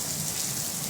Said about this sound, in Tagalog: Uy, lumalakas yung ulan.